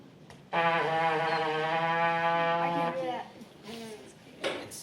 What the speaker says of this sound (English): So like the lowest note on the trumpet that you can play